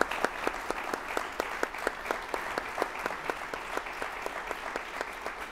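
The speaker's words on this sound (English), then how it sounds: "give all our panelists a nice round of applause for their hard work this evening" An audience at a town hall meeting on bullying gives the panelists a round of applause: steady, moderately loud clapping from a modest crowd, with distinct individual claps standing out in an even rhythm.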